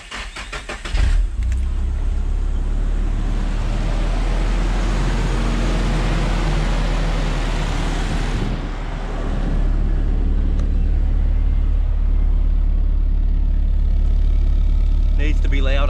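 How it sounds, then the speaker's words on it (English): Nissan 180SX with stock exhaust cold starting: a brief starter crank, then the engine catches and settles into a loud, steady deep idle that dips slightly before holding firm, close to the car. "let's give her a cold start on my very, very, very stock exhaust."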